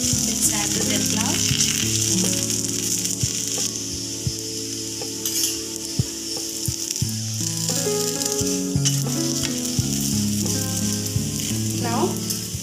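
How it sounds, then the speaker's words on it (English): Thepla flatbread cooks on a hot tawa with a continuous crackling sizzle, close and steady for the whole stretch, joined by a few light scraping and tapping kitchen sounds and no talking. "After the tawa is heated, let's add the thepla."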